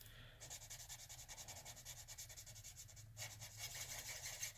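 Chisel tip of a cheap dual-ended alcohol marker rubbing across paper, a steady close scratchy rasp in repeated short strokes, growing slightly louder and brighter toward the end, with no voices.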